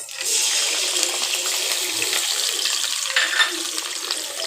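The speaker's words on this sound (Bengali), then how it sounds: "আমি এগুলাকে বেজে নিচ্ছি পেঁয়াজগুলাকে" Onions, garlic and green chilies frying in mustard oil, giving a steady close hiss and sizzle that stays loud and even throughout with no gaps, and no talk over it.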